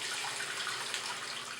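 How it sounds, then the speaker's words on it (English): Cold tap water runs steadily into a bathroom sink, cooling a handmade replacement tooth held under the stream, a soft, even hiss with no voices. "Let's put it under cold water."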